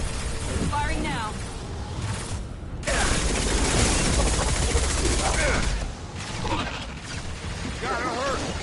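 Mass Effect 2 combat: loud rapid gunfire and booming impacts crowd the scene in sustained bursts, with voices talking over the shooting.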